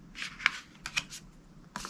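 Soft, quick riffles of tarot cards being shuffled, a few faint bursts of papery flicking close up in a quiet room.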